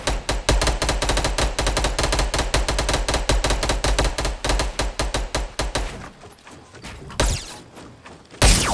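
Rapid automatic gunfire from the Fortnite video game, a dense, loud burst of close shots in quick rhythm for about six seconds, then a few scattered, heavier bangs and pauses.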